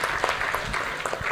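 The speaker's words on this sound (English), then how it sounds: "I think you need to give yourselves as Malawi people a round of applause, those who are here in the hall." A round of applause from the audience in a hall at the Football Association of Malawi awards, short and somewhat uneven, with scattered claps in a steady crowd wash.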